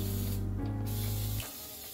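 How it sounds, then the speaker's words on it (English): Aerosol oven cleaner sprays from a can onto the top of an oven, a loud continuous hiss with a brief dip midway, ending abruptly after about one and a half seconds. "I'm just gonna spray the top really good"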